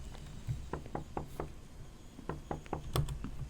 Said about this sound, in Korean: 아니 왜 이렇게 노크예요?